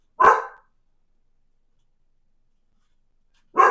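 A dog lets out a single sharp bark, then there is silence for about three seconds before a second bark.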